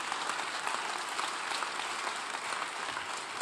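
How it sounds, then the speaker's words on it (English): Steady, dense audience applause fills the room at a National Governors Association summer meeting opening plenary, a continuous wash of clapping with no voices over it. "let's give a round of applause to Matt, Wes, and Chris."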